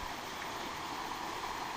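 Small waterfall and stream running among trees at a campsite, a steady broadband rush of flowing water, close and continuous with no voices.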